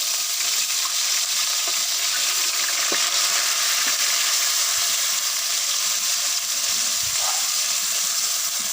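Onion paste browning in hot oil, a loud continuous crackling sizzle that holds steady throughout.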